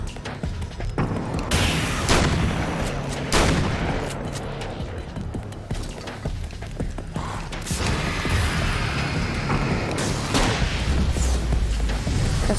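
Gunfire in the video game Alan Wake's American Nightmare, repeated loud shots and booming blasts at irregular intervals over a dense, rumbling combat soundscape.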